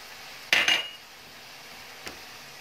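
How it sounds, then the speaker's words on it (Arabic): A saucepan handled in a kitchen gives one short, sharp metallic clatter near the start. A faint clink follows a moment later against an otherwise quiet room. "انا خديت واحد الكاسرونه"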